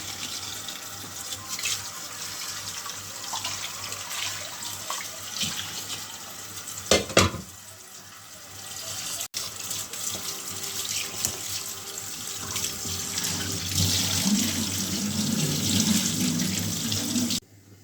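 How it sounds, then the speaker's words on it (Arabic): A kitchen tap runs steadily over boiled pasta for koshari as it drains, a continuous close splashing rush with a brief clatter partway through and a fuller gush toward the end. "هنفضيها بقى كده تحت الحنفيه"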